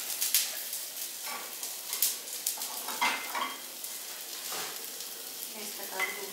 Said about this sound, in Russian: И сейчас мы жарим блины.